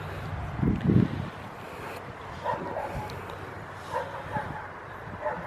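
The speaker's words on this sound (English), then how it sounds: "And this way the dog's a little bit excited because she's hungry." An excited, hungry dog at tracking training gives a couple of close barks early, then softer yips and whimpers over wind noise.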